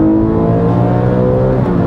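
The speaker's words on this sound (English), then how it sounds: "Wow, yeah, it just revs." Porsche 997.1 GT3 flat-six engine revving hard from inside the car, a loud, dense harmonic howl holding steady throughout.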